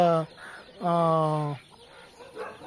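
A hen clucks loudly close by, two drawn-out harmonic calls with a short gap, among young chicks and hens kept for sale, with faint background noise between calls.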